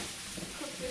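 Food cooking in a dry pan with no oil for homemade pizza, a steady hissing sizzle with a faint stirring texture, moderately quiet and continuous throughout.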